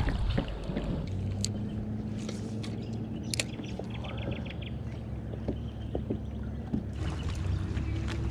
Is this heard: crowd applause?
no